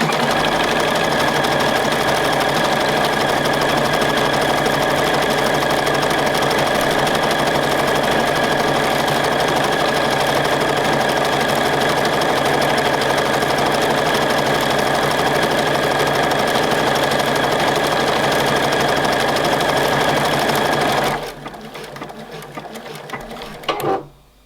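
A computerized sewing machine stitches lettering with a fast, steady mechanical whir and rapid needle clatter, loud and close for a long stretch before stopping abruptly with a few small clicks.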